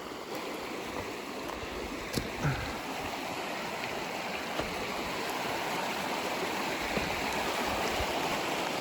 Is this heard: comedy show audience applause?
no